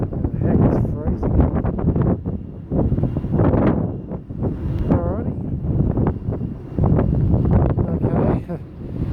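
Strong, cold wind buffets the microphone on a Tasmanian roadside, producing a heavy continuous rumble that swells in gusts while a person speaks briefly over it.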